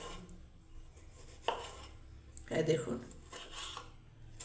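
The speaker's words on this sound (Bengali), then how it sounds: "টমেটোটা কেটে নিচ্ছি এবারে।" A knife cuts through a tomato in a few short crunchy strokes close by, the clearest one coming midway, with a person talking over and around the cutting.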